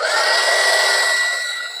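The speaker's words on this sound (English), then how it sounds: "sorry about the noise. I will mute this so you don't have to hear the heat gun" A loud, close heat gun runs over UV resin in a cast coaster, with a steady high whirring whoosh and whine, easing off slightly toward the end.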